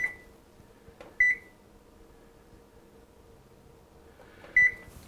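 A kitchen oven timer being set for thirty minutes gives three short, bright electronic beeps, spaced a second or more apart, against a quiet room hum.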